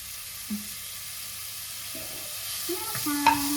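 Sliced onions dropped into hot oil in a home kitchen pan, giving a soft sizzle with a few clinks and stirring knocks building toward the end, fairly quiet and without talk.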